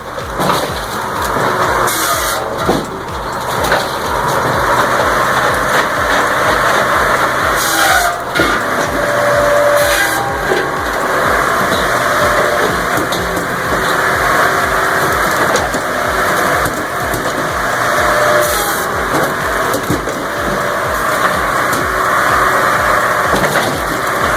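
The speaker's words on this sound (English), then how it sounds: "the engine roars with authority" The engine of a homemade firewood processor runs loud and steady at close range, a continuous mechanical drone broken by occasional thumps and cracks from the machinery, with no voices.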